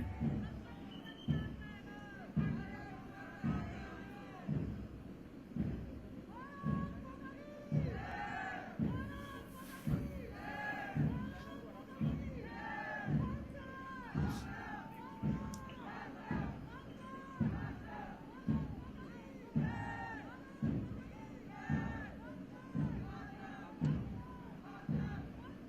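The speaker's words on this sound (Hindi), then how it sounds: "बहुत दूर दूर तक नारे गूंज रहे हैं।" A large crowd outside a crematorium at a funeral chants slogans in a strong, regular call-and-response rhythm, loud repeated bursts of massed voices roughly every second, with background hubbub between.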